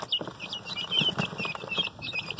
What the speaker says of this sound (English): Here's one of our guineas right here.